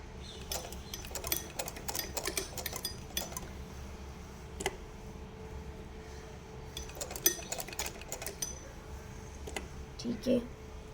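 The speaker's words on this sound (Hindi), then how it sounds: "इस तरह से ये सिलते जाएंगे।" A sewing machine stitching cloth in a beginner tailoring lesson, running in quick rattling bursts with pauses, clicks and faint metallic clinks, while a woman explains in Hindi over the work.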